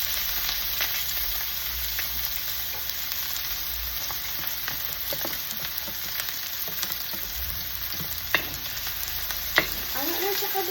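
Onion sizzling and sautéing in butter in a pan for chicken caldereta, a continuous crackling fry with occasional stirring scrapes and a few louder pops, close and steady with no talking.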